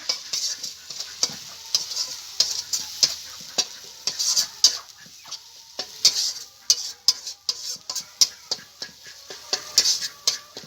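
Spice masala with dry chili powder being fried and stirred in a pan, a soft sizzle under frequent sharp spoon scrapes and taps in an irregular rhythm, close and quiet, without speech.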